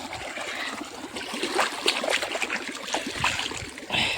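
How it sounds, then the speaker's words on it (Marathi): Water trickles and gurgles along an irrigation channel on a village farm field, a soft, close, continuous flow with small splashy bursts. "बघा, हे असं पाटाचं पाणी आहे."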